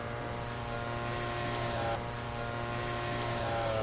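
A Hangar 9 P-47 RC plane with a 26cc gas engine climbing at full throttle, a steady loud buzzing propeller drone held throughout, with slight shifts in pitch.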